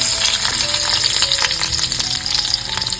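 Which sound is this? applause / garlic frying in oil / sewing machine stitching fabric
garlic frying in oil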